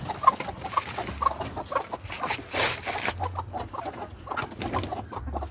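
Free-range chickens on a small farm cluck and murmur nearby, soft intermittent calls scattered throughout with a low rustling background.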